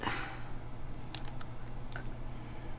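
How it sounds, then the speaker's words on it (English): Scissors trimming paper for a handmade summer card, with a few short crisp snips over quiet room hum, close and without talk. "Maybe have to trim it a little bit."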